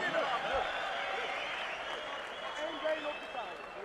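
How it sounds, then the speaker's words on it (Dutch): Crowd applause and cheering at a free fight event as the first round ends, a steady dense wash of clapping and noise throughout, with voices mixed into the crowd. "Einde van deze eerste ronde die een keiharde applaus waard is."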